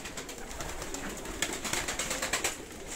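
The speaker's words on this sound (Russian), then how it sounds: "Вот здесь дядя Шаковские голуби" Armenian pigeons of the cobra-headed line cooing in a loft, a steady layered murmur of several birds close by with repeated soft pulses, no talking.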